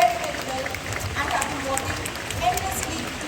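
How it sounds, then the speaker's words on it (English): Students receive a round of applause at a school founder's day cultural program: a continuous wash of clapping from a large audience, fairly even in loudness, with voices faintly mixed in. "A big round of applause for all the students who have performed very, very well"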